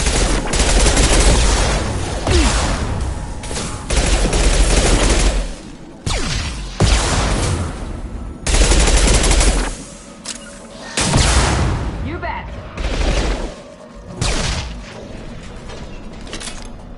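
Heavy shotgun blasts in a video game, loud and close, booming repeatedly in uneven clusters amid clattering mechanical effects and brief pauses.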